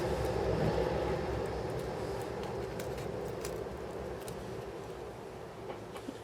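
A train rolls past nearby, a dense steady rumble with faint clattering that gradually eases as it moves away, with no one speaking.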